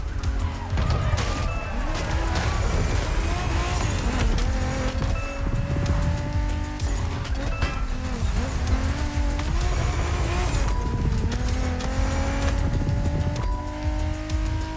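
A BMW Z4 M40i roadster in the racing game The Crew Motorfest revs and drives hard, its engine pitch sweeping up and down through gear changes, with bursts of tire squeal throughout.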